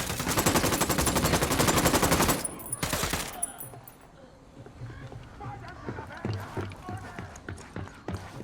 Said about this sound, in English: I'm shooting these fuckers.